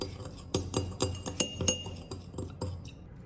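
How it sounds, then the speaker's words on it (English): A spoon stirs sugar water in a glass jar, clinking against the glass in a steady rhythm of about a dozen sharp, close taps that slow and fade toward the end. "grab a glass jar, add 1 teaspoon of sugar, pour in enough water to cover the roots, stir until the sugar dissolves"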